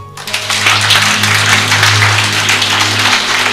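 Church congregation clapping during a sermon, rising quickly to a sustained burst of applause that holds steady to the end.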